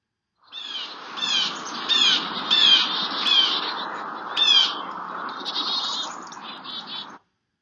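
Blue jay calls, including harsh hawk-like screams used as alarms, repeated in a noisy run of squawks over steady background hiss in a garden setting, fairly loud throughout.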